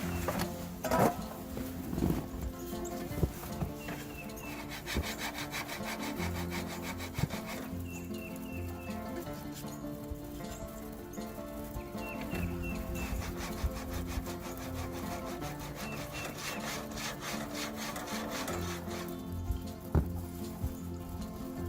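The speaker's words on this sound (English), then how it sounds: "Now we'll go up and scrape them on the grill so we get a registration for where we want to grind them down a little bit." Wooden paddle scrapers rasp and scrape repeatedly against a grill grate, a continuous gritty rubbing with irregular strokes and occasional louder knocks, close and alone without speech.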